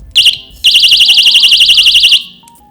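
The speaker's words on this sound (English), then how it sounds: "you basically use it by pulling the string on the side and it activates" Piercing personal safety alarm set off by pulling its side string: a brief shrill burst, a short gap, then a loud rapidly warbling electronic siren that holds for about a second and a half before cutting off.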